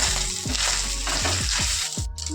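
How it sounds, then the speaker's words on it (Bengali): Coconut pieces frying with a little salt in a pan, a steady loud sizzle broken by several stirring scrapes at regular intervals, with no talking. "নারকেলগুলো ভাজার সময় সামান্য লবণ দিয়ে দেবো, লবণ দিয়ে তারপর নারকেলগুলোকে ভাজবো।"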